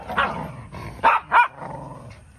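A dog barks in a cool summer resort in Hakuba village, Nagano: two sharp, loud barks close by, with softer whines and vocal noises around them.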